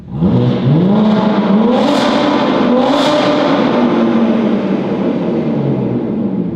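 A BMW G80 M3 fitted with an exotic aftermarket exhaust revs loud and close, its engine note climbing and holding a sustained high-rpm howl with a couple of sharp throttle blips and a crackling, raspy edge throughout.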